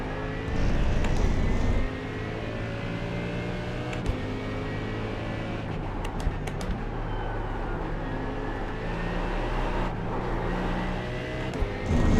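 GT3 race car engine at Catalunya in a VR racing game, a steady loud droning whine with shifting revs running throughout, up close with no voices.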